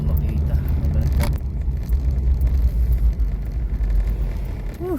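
Road traffic heard from inside a moving car: a low, steady rumble of engine and tyres with occasional faint passing sounds, and a voice talking at times.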